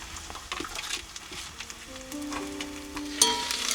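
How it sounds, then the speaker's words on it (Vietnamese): Rice fries in a hot pan with a steady, close sizzle, broken by a few scraping stirs, while faint tones ring briefly in the background. "Chiên cơm."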